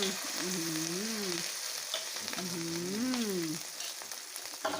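Eggs fry for a Thai omelette in a pan with a loud, steady sizzle, while a wavering tonal whine rises and falls twice over the hiss.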